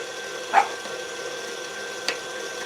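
Small dogs bark somewhere in a home kitchen. Two short, faint yaps are heard a second and a half apart over a quiet, steady background hum.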